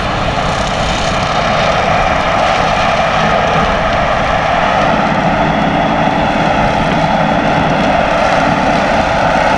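A John Deere 5055E tractor mowing roadside grass with a 10ft bush hog, heard as a loud, steady engine roar with the mower's rumbling drone continuous and close throughout.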